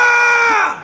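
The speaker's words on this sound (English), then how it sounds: "Would you scream?" A single person lets out a loud, sustained scream lasting under a second, close and alone, fading slightly at the end.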